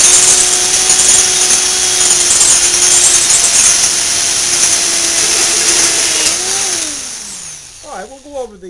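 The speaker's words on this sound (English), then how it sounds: "how you can drill a hole in your steel stud slot" A power drill whines loudly and steadily as it bores into a steel stud, its pitch dipping briefly before it stops; a voice speaks at the end.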